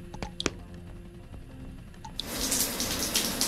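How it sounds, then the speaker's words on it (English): Shower water starts running in the VR game Compound, a sudden steady hiss that switches on partway through after a few small clicks and taps. "Gotta get ready. Gotta have that shower."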